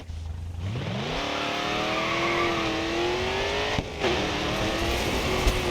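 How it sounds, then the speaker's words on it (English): A racing game car's engine revs steadily, pitch climbing from a low idle to a high sustained whine, with a brief dip and re-rev near the end; loud, close and continuous, with no talk. "Let's see if we rev up the car a bit"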